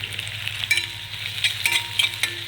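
Peas and poha ingredients sautéing in a pan with a steady close sizzle, broken by several quick scraping strokes and clinks as they are stirred and tossed.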